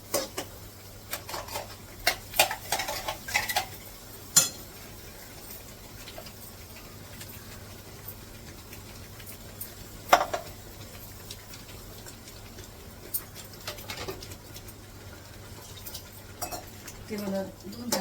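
Onion goes into a hot pan of oil while stuffed brinjal is being cooked, giving a soft sizzle under repeated clinks and scrapes of a spoon stirring against the metal pan, close and fairly quiet.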